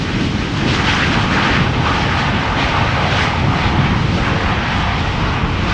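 Airbus A350-1000 airliner at Schiphol Airport, its engines giving a loud, steady broadband roar and rumble that holds without a break throughout.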